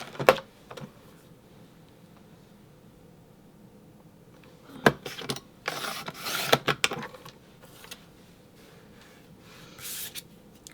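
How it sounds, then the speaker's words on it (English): Cardstock trimmed for a handmade card with a paper trimmer: a sharp opening swipe, a quiet pause, then a cluster of scraping, rasping cuts and slides, ending with one last short rasp, close and moderately loud. "But this one I definitely need to trim. Let me trim this up really quick."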